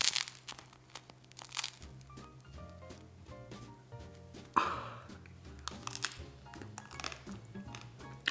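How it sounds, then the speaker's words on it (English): A crispy custard-filled pastry is crunched near the mic, giving repeated crackly, crinkly bites in an uneven rhythm, with quiet background sounds between crunches. "I'm gonna crunch this one up."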